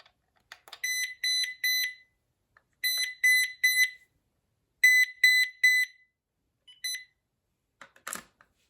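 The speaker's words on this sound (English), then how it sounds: "let's do the Find Handset, which should be quite loud" Loud electronic beeping from a Uniden DXI386-2 900MHz analog cordless phone handset locator, in repeated bursts of three or four high tones, separated by short pauses, with a faint click at the end.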